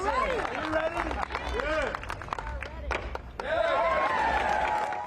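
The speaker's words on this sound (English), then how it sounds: "Surrounded by cheering Republican lawmakers, U.S. President Donald Trump has signed his One Big Beautiful Bill Act into law" Republican lawmakers cheer and clap around U.S. President Donald Trump as he signs a bill into law, a lively crowd of claps and shouts with voices calling out over it.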